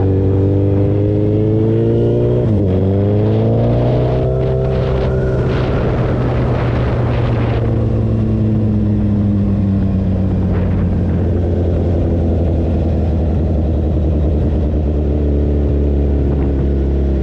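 A street/strip Suzuki Hayabusa launches down a drag strip, its engine screaming close and loud with rising pitch through several quick gear changes before settling into a sustained steady roar.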